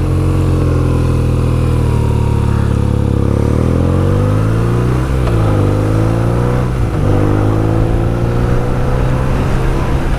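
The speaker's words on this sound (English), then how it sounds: "Oh look, we've got a motorcycle gang" A group of motorcycles on Italian plates rides past on a Greek road near Larissa, a loud, close, continuous engine roar whose pitch rises and dips as several bikes go by. No one talks.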